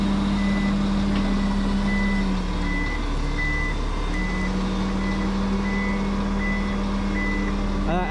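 A haul truck reverses at a wood-processing site with its backup alarm beeping in a regular repeating pattern over a loud, steady diesel engine drone. The truck is close by, and the beeps continue throughout.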